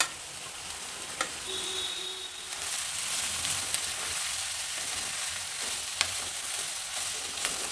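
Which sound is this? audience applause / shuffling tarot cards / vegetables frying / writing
vegetables frying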